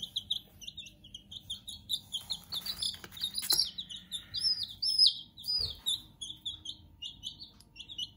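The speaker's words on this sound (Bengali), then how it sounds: "এই হচ্ছে মুরগির বাচ্চা দুটো রয়েছে" Two chicken chicks chirp in an indoor setting that also houses pet lovebirds, with rapid, high, repeated peeps coming in clusters and a few soft knocks and rustles underneath.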